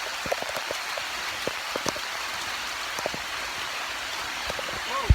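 Steady rain patters on a forest trail between Bukit Timah Nature Reserve and MacRitchie Reservoir in Singapore, a dense even hiss with scattered louder drips close by.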